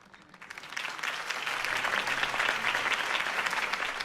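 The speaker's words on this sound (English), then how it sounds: "If only Mr. Wayne, my campaign's largest backer, could have heard that applause" A crowd applauds at Harvey Dent's campaign speech in the video game Batman: The Telltale Series, the clapping swelling quickly from soft to a full, steady roar that holds to the end with no talk over it.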